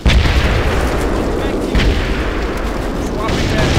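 Mortar artillery strikes in the video game Full Spectrum Warrior come as a dense, continuous rumble of booms and blasts, with game voices heard over the din.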